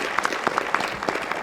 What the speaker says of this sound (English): Clap for Jarrett